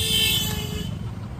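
A vehicle horn sounds briefly over steady road traffic, tapering off within a second.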